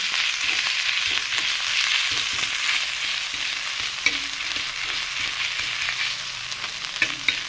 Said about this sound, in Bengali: তেলের মধ্যে জিরে এবং 5 ফোড়ন ভালোভাবে ফুটে গেছে, ওর মধ্যে দিয়ে দেবো আদা বেটে রেখেছি, দিয়ে দেবো, দিয়ে ভালোভাবে ভেজে নেব।